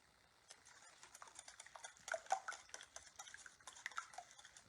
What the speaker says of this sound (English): now, we're going to take our mixture and we'll mix it up a little bit